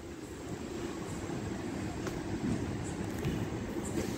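An MMTS local commuter train in Hyderabad stands at a halt, giving a steady low rumble and broadband hum that holds level throughout, with a few faint clicks and knocks above it and no talk.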